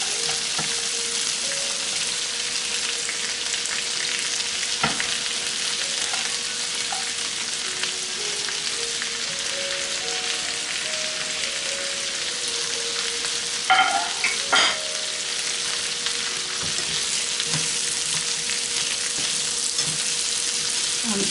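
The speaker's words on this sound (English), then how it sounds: "I'm stir frying with the butter." Vegetables stir frying in butter in a large pot, a steady crackling sizzle with occasional clinks of stirring, close and continuous throughout.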